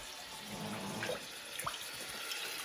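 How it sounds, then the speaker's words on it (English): Water poured into a bowl of chicken seasoning for Haitian fried chicken, a soft continuous splashing pour with faint trickles, fairly quiet and close, with no talking. "I'm just gonna dump my water in here"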